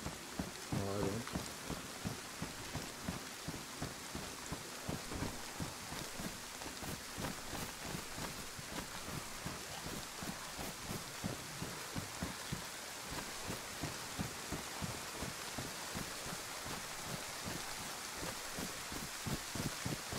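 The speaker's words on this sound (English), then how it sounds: "Rain is super loud." Heavy rain falls steadily on a New York street, a dense and unbroken hiss with patter on nearby surfaces that carries on for about twenty seconds, with no talking.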